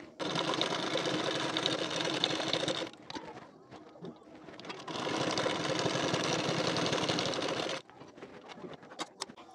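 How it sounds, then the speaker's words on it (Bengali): Close by, a sewing machine runs two long stitching bursts along a folded strip on a collar-neck katori blouse, with a quieter pause of fabric handling between runs and faint clicks after. "নিয়ে এর উপর থেকে 2টি সেলাই দিয়ে নেবেন।"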